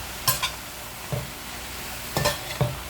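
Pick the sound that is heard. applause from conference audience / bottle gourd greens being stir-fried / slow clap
bottle gourd greens being stir-fried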